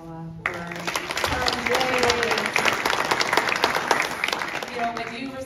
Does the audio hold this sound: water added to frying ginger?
no